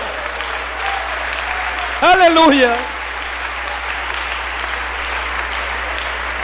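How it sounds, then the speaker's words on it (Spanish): Applause fills a church during a Spanish-language sermon, a steady clapping bed that runs throughout. Around the midpoint, a voice briefly rises over it in a short shout. "Dale ese aplauso a Él si lo crees"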